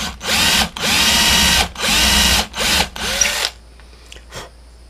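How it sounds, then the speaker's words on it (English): A power drill bores a cavity into a frog fishing lure body in four loud, steady bursts with brief pauses, then falls quiet. "I need to drill down for my little cavity"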